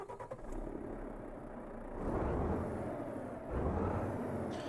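Renault T Range truck in Euro Truck Simulator 2 starting up, a low engine rumble catching and building, then settling into a steady idle with a second rise in revs.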